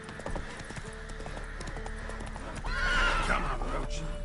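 Roach, the horse from the Witcher 3 video game, moving with hoof clatter and then letting out a loud neigh near the end, over a background of game ambience.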